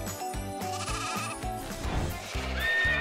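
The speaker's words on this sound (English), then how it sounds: "The goat Valentino is the conqueror of hearts" A toy goat on a toy farm bleating repeatedly in short, loud, wavering cries, close up, over a busy background of music-like tones with no talk.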